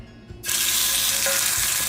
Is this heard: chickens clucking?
no